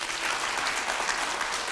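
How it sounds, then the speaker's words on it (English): A church congregation at a Sunday service claps steadily in sustained, dense applause with no pauses, filling the whole moment at a fairly even level. "So let's give them a round of applause."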